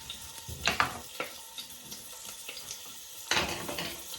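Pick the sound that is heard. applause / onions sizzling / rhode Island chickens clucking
onions sizzling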